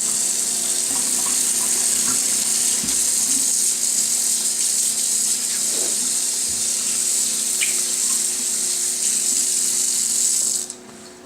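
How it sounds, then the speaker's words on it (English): Tap water runs steadily into a home kitchen sink while hands are washed during a meatloaf-making cooking project. The rush is continuous and fairly loud, with no talk, and it cuts off sharply at the very end. "wash your hands after everything you just touched"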